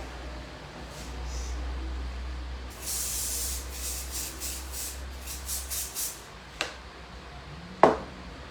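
Water spray bottle misting hair during a taper fade haircut in a barbershop, a run of several short hissing spritzes close by, followed by a couple of sharp clicks.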